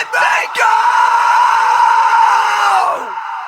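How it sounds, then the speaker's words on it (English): A long, loud sung scream bursts out in the bridge of a rock song, holding one raw, sustained pitch for about three seconds before tailing off, with a short cry just before it. "as the chorus ends and we get into the bridge, I scream."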